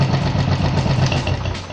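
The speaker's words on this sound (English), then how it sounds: "Now this is having perfect idling" Royal Enfield EFI motorcycle engine idling up close, a steady, even, low rumbling thrum with no revving or change in pace throughout.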